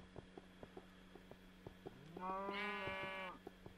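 A cow in the Minecraft video game moos once in a long, drawn-out call rising into clear harmonic tones, preceded by a steady series of soft, regular clicking game sounds in the background.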